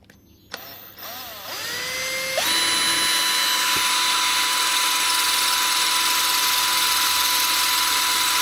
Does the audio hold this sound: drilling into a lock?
yes